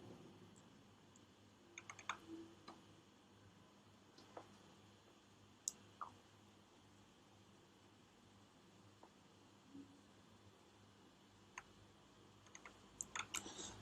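Quiet, sparse clicks and taps on a computer keyboard and mouse during a WordPress plugin setup, scattered irregularly over a faint steady hiss with no voice.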